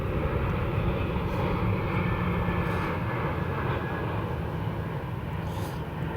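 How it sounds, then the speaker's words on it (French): An airplane passes overhead outdoors, a steady broad engine drone holding at moderate loudness for the whole stretch, with no talking over it. "Et il y a un avion. Du coup, tout ça pour dire qu'il y a du bruit de fond."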